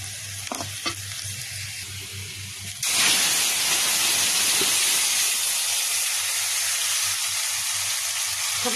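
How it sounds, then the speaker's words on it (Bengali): Onions frying in mustard oil give a loud, steady sizzle and hiss that swells abruptly partway through, with occasional stirring scrapes, close up and without talk. "আর এদিকে সরিষার তেল দিয়ে পেঁয়াজকে ভেজে নিচ্ছি।"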